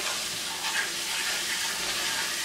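Onions sweat in a pan with salt and pepper, making a soft, even sizzle that holds steady and stays fairly quiet, with no voices over it.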